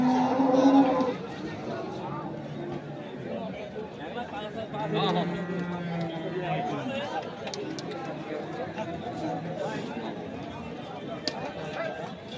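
Cattle and bulls moo loudly up close, with more lowing later amid a crowd's steady chatter and the bustle of a busy livestock market in Kaharol, Dinajpur, Bangladesh.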